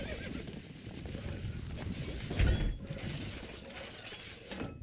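Horse neighs and hoofbeats from the Stronghold Crusader strategy game, with a louder whinny surging midway over a steady busy game-sound bed of clopping and mechanical clatter.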